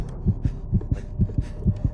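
A fast, steady heartbeat in the horror video game Call of Cthulhu, with paired low thumps repeating about every quarter second, close and loud with no talk.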